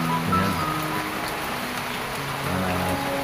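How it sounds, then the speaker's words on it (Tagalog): Steady rain falls during a flood, a dense continuous hiss of drops on surfaces with a low droning hum running underneath, close and even throughout. "Sana humina na yung ulan"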